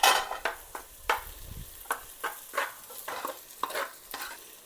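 Soursop fruit masala frying in a pan under repeated stirring, a soft sizzle with regular scraping strokes about twice a second, close and clear, with no voices.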